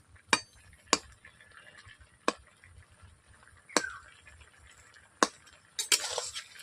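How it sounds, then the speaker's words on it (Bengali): A spatula knocks and scrapes against a pot while stirring steamed cauliflower and potatoes, producing several sharp, distinct metallic clinks spaced irregularly, with quieter shuffling between them. "খুঁটি দিয়ে নেড়েও নিচ্ছি একটু।"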